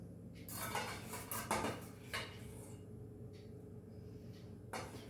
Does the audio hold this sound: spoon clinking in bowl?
yes